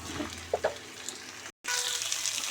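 Radish pieces frying in a pan with onion, dried and green chilies, curry leaves and asafoetida for a Kannada radish sambar, a soft sizzling hiss with light clatter that briefly cuts out partway.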